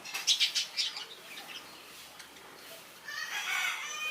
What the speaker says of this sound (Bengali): ওই যে আমাদের দেখেন লাল পাগলা নামলো